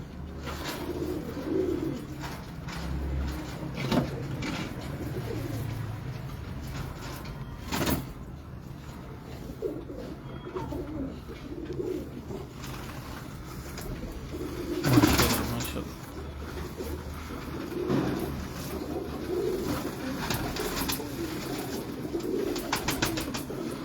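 Shah Parwazi pigeons coo softly amid steady background noise and occasional knocks, with low murmuring calls recurring through the stretch, fairly faint and near.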